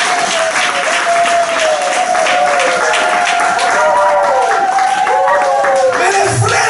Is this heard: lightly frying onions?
no